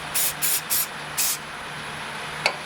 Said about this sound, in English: I'm gonna give a little bit of blast of activator